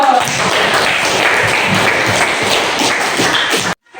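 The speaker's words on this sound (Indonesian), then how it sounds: "Kan tepuk tangan dulu." A classroom of students claps their hands together in a dense, steady burst of applause that fills the room for several seconds, then stops abruptly.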